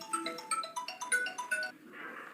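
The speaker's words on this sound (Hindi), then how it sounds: "चलिए थोड़ा सा फोन आ गया था।" Phone ringtone goes off during a lecture, a near melodic electronic jingle of bright repeated tones that plays for about two seconds and ends in a softer fading chime, with no voices.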